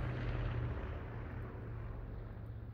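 Airplanes flying overhead in the video game Cafe Owner Simulator, a broad rushing roar with a low hum that fades slightly over a couple of seconds.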